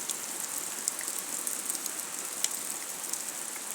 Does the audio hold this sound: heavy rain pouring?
yes